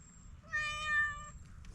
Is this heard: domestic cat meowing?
yes